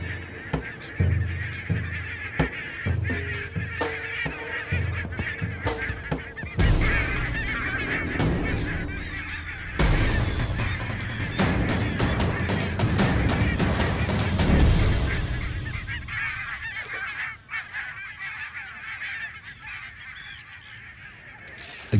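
A large flock of geese honks continuously and loudly, a dense chorus of overlapping calls with flapping bursts, easing toward the end.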